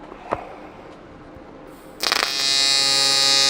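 A welding arc restarts with a sudden crackle after a few faint taps, then settles into a steady, loud buzzing hiss that holds close until the end.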